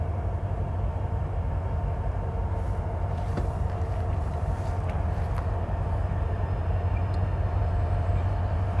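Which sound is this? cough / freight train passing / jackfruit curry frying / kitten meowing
freight train passing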